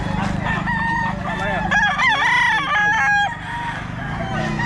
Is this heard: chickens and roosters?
yes